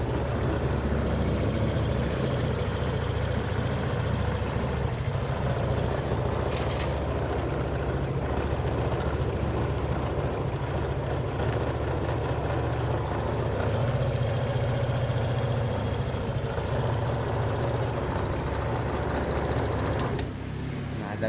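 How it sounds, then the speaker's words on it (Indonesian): A Honda PCX scooter engine idles steadily and continuously at close range after repair of a burnt stator coil, a low rumbling hum that barely changes for the whole stretch. "motor udah bisa starter ya."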